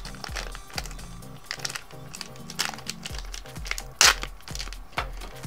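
Scissors cut open the anti-static packaging of an Arduino UNO CNC shield: close crinkling plastic and rhythmic sharp snips, with one especially loud crackling cut partway through.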